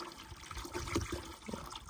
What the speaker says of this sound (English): we're gonna pour equal amounts of muriatic acid into the bucket with half of the water